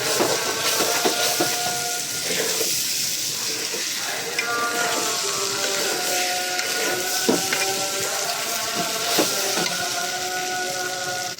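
Rice fries in a pot with sugar, giving a loud, steady sizzle close by, with intermittent scraping and stirring noises throughout.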